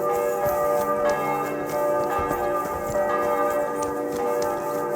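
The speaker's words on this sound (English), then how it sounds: "My goodness, those bells are loud." Loud church bells ringing in the video game Kingdom Come Deliverance 2, a dense, continuous clangor of overlapping bell tones that fills the whole stretch at constant high volume.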